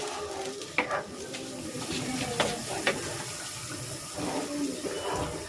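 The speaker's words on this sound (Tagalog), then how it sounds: "Ayan, kumukulo na." Cabbage noodle soup with shiitake mushrooms bubbling at a boil in a pot, a steady close simmering hiss broken by a few sharp clinks or stirs, without speech.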